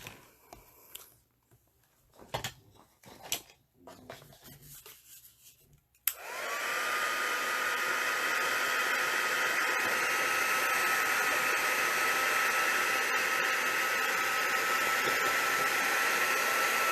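Handheld hair dryer switching on with a click and roaring steadily while blow-drying hair, preceded by brief brushing and handling noises.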